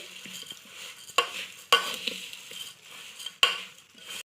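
Bhel ingredients are tossed together in a bowl with a utensil, producing rustling crunchy mixing sounds punctuated by three sharp clinks against the bowl, close and fairly quiet.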